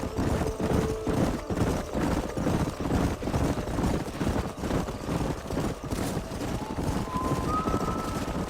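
Horses gallop in the Red Dead Redemption video game, a loud, dense drumming of many hooves that runs without pause, with a faint whistling tone coming in near the end.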